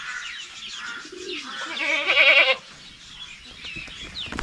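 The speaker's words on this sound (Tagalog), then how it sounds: "Sa lahat ng mga kambing na lalaki na dumaan sa atin, si George po yung may pinakamagandang lahi." Goats on a farm bleat nearby, one rising, wavering call standing out in the middle, with fainter animal sounds and bird-like coos around it.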